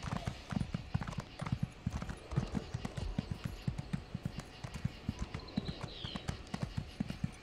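Horse hooves clip-clopping at speed in the Elder Scrolls Online video game, a fast, regular drumming of hoofbeats near and prominent throughout, with a brief whinny-like tone near the end.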